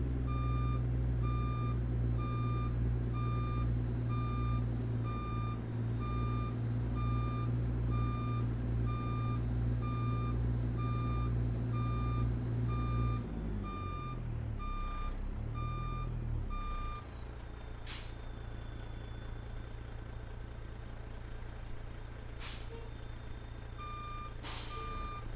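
A Ruda 389 truck in American Truck Simulator reverses with a steady, repeating backup alarm of evenly spaced beeps over a low idling diesel engine, which drops off partway through as a few sharp air hisses follow.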